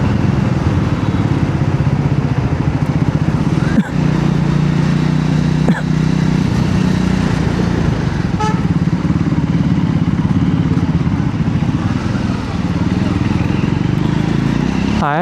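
Triumph Scrambler 400X motorcycle ridden through traffic, its engine a steady loud drone with a few brief clattery transients throughout.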